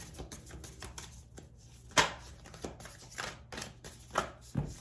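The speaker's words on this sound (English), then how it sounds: "these cards, this is why I don't use them that often. They're so difficult to shuffle" Tarot cards being shuffled by hand, a run of stiff riffling and slapping bursts with a few sharper snaps, close and fairly quiet, with no talking.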